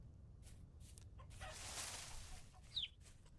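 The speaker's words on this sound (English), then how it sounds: "I heard a baby chicken with those chickens" Chickens in the video game Vintage Story cluck faintly against a quiet background, with a brief, sharper call standing out near the end.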